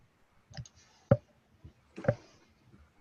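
Computer keyboard typing in a live trading room, a few sparse, sharp key clicks spaced out irregularly, close and fairly quiet with silence between them.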